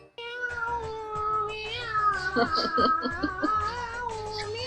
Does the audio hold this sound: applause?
no